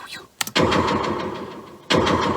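Retro arcade-style death sound built with a delay effect: a few short stuttering blips followed by a loud, dense repeating burst that fades, then a second burst near the end, with no voice over it.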